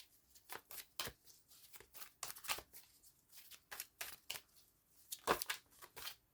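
Oracle cards are shuffled by hand, a series of crisp riffling bursts and soft slaps in an irregular rhythm, close and fairly quiet against near silence.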